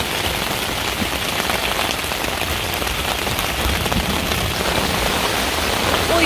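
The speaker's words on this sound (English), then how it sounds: "Well, you can hear the rain." Steady, dense patter of rain drumming on a taut Coleman tent, continuous and fairly loud with no voices.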